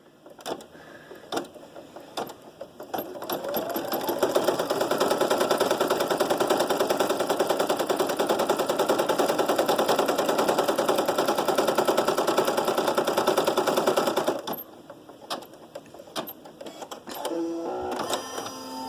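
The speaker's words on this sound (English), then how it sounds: "We'll go ahead and let this one stitch." An embroidery machine stitches an in-the-hoop panel for a four-panel stuffed ball, running as a rapid, even mechanical chatter for about ten seconds, bracketed by a few isolated clicks and knocks before and after.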